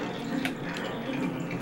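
Water flows continuously in the Majora's Mask video game, a steady moderate rushing and splashing like a running tap, with a few brief brighter splashes over it.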